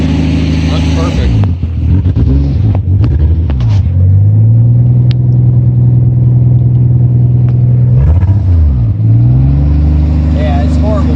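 A Toyota Supra that sat unused for ten years runs loudly up close, its engine revving up and down in several swells before dropping back to a steady idle, with people talking over it.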